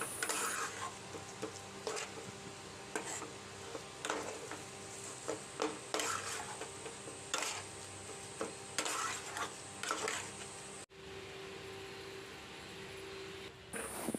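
Spiced fish cutlet filling stirred in a pan, a steady low scraping and shuffle broken by frequent sharp clinks of the spatula against the pan, close by with no talking, all under a soft constant hiss.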